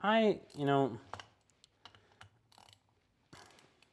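A Klein Tools KNECT ratchet turning Phillips head screws into a block of wood, starting with a short burst of a voice, then faint, irregular clicking of the pawl in short bursts.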